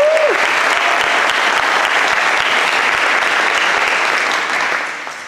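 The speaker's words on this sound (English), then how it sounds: "Round of applause." Dense, sustained applause from a concert audience at a spring band concert fills the room loudly and evenly for several seconds, then tapers off toward the end.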